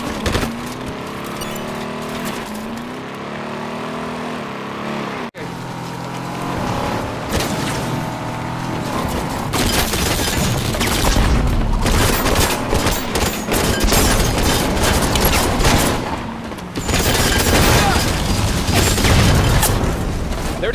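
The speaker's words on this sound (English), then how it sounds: "Take a shotgun blast! Return fire!" Gunfire and shotgun blasts in the Halo video game, a dense, loud barrage of shots and booms layered over engine noise and game sounds, continuous with no pauses.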